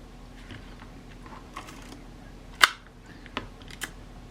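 A Kodak Retina IIa camera's shutter is cocked and fired indoors, a few faint mechanical clicks and one sharp louder snap standing out against quiet background hiss.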